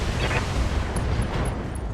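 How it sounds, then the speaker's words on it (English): A heavy in-game ammunition explosion on an AC-20 autocannon in a BattleTech mech fight: a loud, sustained rumbling blast that fills the whole two seconds, with no voices over it. "ammo explosion on the AC-20"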